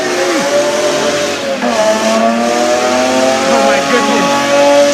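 A drift car at a speedway spins its wheels without traction, its engine revving hard under squealing tires in one loud, continuous roar. A spectator exclaims briefly over the noise.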